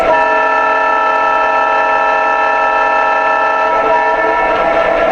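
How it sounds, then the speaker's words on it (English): A model MTH PRR E-8 diesel locomotive sounds a steady, sustained horn chord, loud and close, held for several seconds over a faint electronic hiss without any talking. "Here's your horn."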